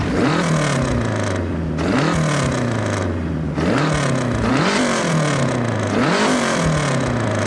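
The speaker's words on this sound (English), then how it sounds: "This is the street exhaust, and it sounds like a Subaru." Car in Forza Horizon 6 fitted with a street exhaust, revving repeatedly with a rough, burbling boxer-engine character; loud and close, rising and falling in several pulls with no talk.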